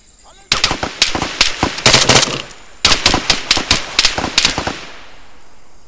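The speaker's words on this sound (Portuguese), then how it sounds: "Caraca, não sei de onde tá vindo o tiro" Rapid bursts of automatic gunfire in the video game Arma 3 Apex, loud and close, coming in two long strings of rattling shots before fading out.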